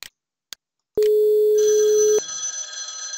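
A mobile handset rings on a call placed from a PC softphone on a FreePBX/Asterisk phone system. Two soft clicks come first, then a loud electronic tone of about one second, followed by a quieter ringing pattern.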